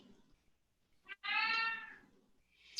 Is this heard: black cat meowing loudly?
yes